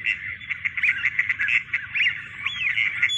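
Mallard ducks calling during a duck hunt in Pakistan, a busy run of nasal quacks and chatter from several birds at middle distance, continuous over steady outdoor background noise.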